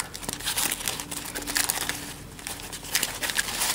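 Tightly packaged budget gadgets shipped from China being unwrapped, giving steady crinkling and crumpling of plastic wrap with a few sharper tearing bursts, close up and fairly quiet with no talking.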